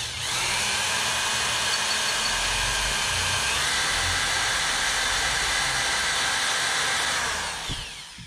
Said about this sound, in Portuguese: Eu vou furar aqui bem pertinho aqui